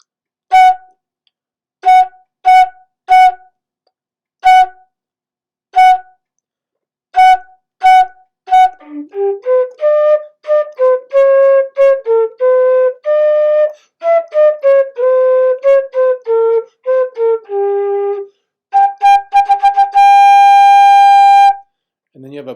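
A single melodic instrument, likely a flute in a school mariachi band, plays the opening part of La Adelita: a row of short, evenly spaced repeated notes, then a flowing phrase and a long sustained tone, clear and close with no talking.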